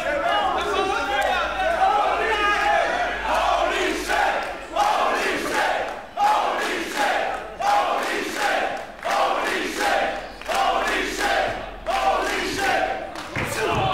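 A crowd at an indoor professional wrestling show rises and falls in rhythmic bursts of chanting and cheering, with a commentator speaking over the noise and occasional thuds.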